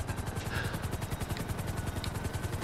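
A regular civilian helicopter arrives in GTA 5 Online, its rotor beating in a steady, fast, even chop that stays loud and close throughout with no talk over it.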